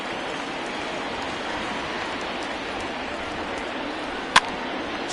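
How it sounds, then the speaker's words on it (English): Rain falls steadily in a baseball video game as a dense, even hiss of raindrops, with one brief sharp click near the end. "the rain starting to intensify here. It's coming down a little heavier now."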